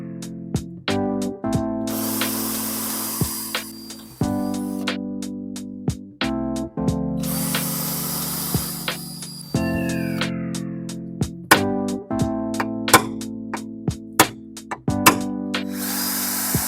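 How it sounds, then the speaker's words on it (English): A small power drill with a 3mm bit whirs in short bursts through an MG B GT bonnet, starting and stopping repeatedly with brief pauses between, close up and fairly clear. "I'm going to use a 3mm drill"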